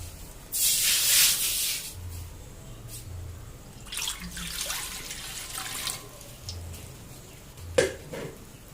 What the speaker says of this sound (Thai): แล้วเราก็ใส่ ใส่น้ำเข้าไปในกระทะเลยนะครับ